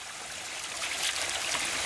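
A mountain stream trickles along a trail where a flood has brought down debris, its shallow water giving a steady, soft, close hiss and babble with no voices.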